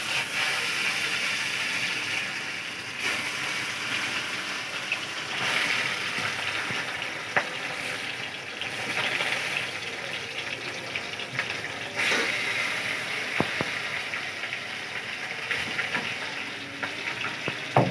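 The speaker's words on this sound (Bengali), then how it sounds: "আজকে তুমি মাছ ভাজছো" Fish frying in a pan in a home kitchen, a continuous close sizzle and crackle with occasional clinks and stirring scrapes, no talk.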